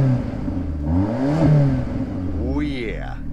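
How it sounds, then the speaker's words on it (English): A VW Passat turbo wagon with custom exhaust and nearly 200,000 km revs up and settles, its engine note rising and falling in a couple of swells under steady broadband noise. "let's get this thing started up so you guys can hear how awesome this turbo sounds"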